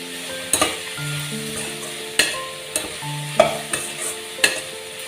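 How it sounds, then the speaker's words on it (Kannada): Spring onions stirred into frying gobi manchurian in a pan: a steady sizzle runs throughout, with several sharp spatula scrapes and clinks against the pan at irregular intervals, close and moderately loud, no talking. "ಇದಕ್ಕೆ ಸ್ಪ್ರಿಂಗ್ ಆನಿಯನ್ಸ್ ಮಿಕ್ಸ್ ಮಾಡ್ತಾ ಇದ್ದೀನಿ"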